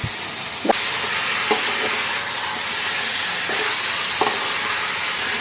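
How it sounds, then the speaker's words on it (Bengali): Fried potatoes and boiled taro (gathi kochu) sauté in hot oil. A constant loud sizzle and hiss fills the clip, with a few sharp scrapes and knocks from a spatula stirring the pan. "আলু আর গাঠি কচু দিয়ে আবার একটুখানি আমি ভালো করে কষাবো"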